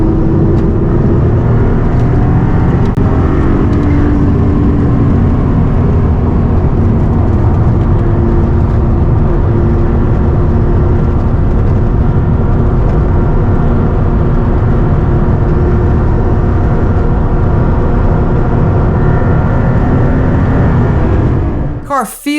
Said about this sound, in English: Check out these few shots from Karl driving the new MC20 on Willow Springs Raceway, turn 2, holding roughly 80 or so miles an hour.